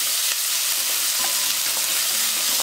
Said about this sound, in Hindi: अच्छे से मिक्स कर दूंगी और 2 मिनट भून लेते हैं मीडियम आंच पे प्याज को।